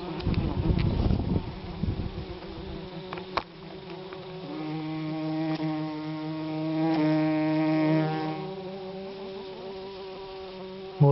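A wasp flies into an opened bumblebee nest, its buzzing wingbeat droning close and loud, swelling and wavering in pitch over several seconds after some rustling at the start, with no voices.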